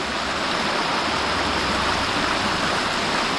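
Big Creek stream flowing beneath a bridge in snowy weather, a steady broadband rush of water that stays loud and constant throughout, with no talking.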